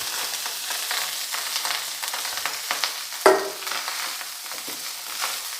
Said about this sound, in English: add rice to this.